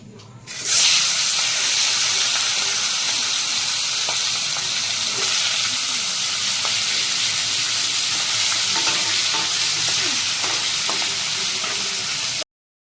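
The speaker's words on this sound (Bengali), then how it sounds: "আমি মাছের মাথাগুলো এবার তেলে ছেড়ে দিচ্ছি" Katla fish heads dropped into hot oil give a loud, continuous sizzle and hiss that starts abruptly and holds steady, with occasional crackles and spatters throughout.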